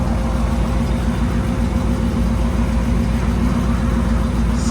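A 1946 Chrysler Windsor V8 fitted with headers and true dual exhaust idles with a loud, steady, low rumble that carries on unchanged from start to finish, close by, with no voices over it.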